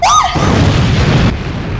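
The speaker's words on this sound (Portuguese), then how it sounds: "um som de explosão seca abafava sua voz" A dry explosion effect from an audiobook: a sharp, loud boom with a brief rising whistle at the start, then a rough rumbling burst that cuts off after about a second, leaving a faint tail.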